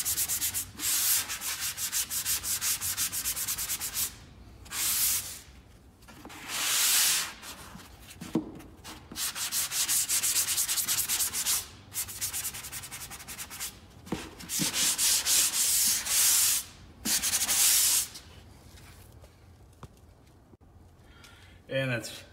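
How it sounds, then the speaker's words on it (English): A sanding sponge rubs drywall corners in a house build, making repeated raspy scrubbing strokes in uneven bursts with short pauses, close by, while someone talks between and over them. "come here as a little sanding sponge"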